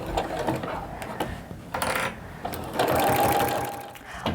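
Sewing machine stitching around the corners of a double oven mitt with a steady mechanical whir and a needle patter, rising louder midway and running continuously for the whole span with no talk.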